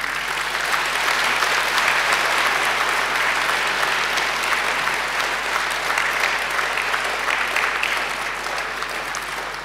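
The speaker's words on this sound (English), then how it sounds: "And now I invite you to give them a mighty round of applause." Graduates at a September graduation ceremony turn and applaud their families and friends, producing a thick, continuous roar of clapping from a large crowd that holds steady at a loud level throughout.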